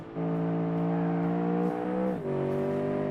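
A stock car in the Automation driving game drones with a steady, harmonic-rich exhaust note that holds level, dips briefly as it shifts, then settles at a lower pitch, loud and continuous throughout.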